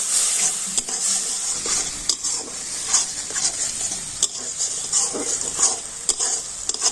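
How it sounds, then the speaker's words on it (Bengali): Ginger-garlic paste, turmeric and cumin powder cooked down with a little water in a pan, sizzling steadily with a broad hiss while a spoon scrapes and stirs in irregular clicks, close and fairly loud. "জল দিয়ে মশলাগুলো খুব ভালো করে আমি কষে নেব"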